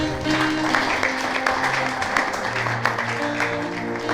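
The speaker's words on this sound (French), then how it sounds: "Tu peux acclamer pour le Seigneur" Applause and cheering from a congregation at a funeral service, steady dense clapping lasting throughout with tonal voices or music sustained underneath.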